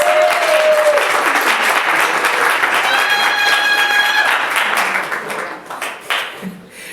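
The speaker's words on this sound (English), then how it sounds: "giving him a big round of applause" A crowd gives a big round of applause for Rabbi Sandy Zisser at a 2021 ordination ceremony of a pluralistic rabbinical seminary, with loud, dense clapping that holds steady and then thins out over the last couple of seconds.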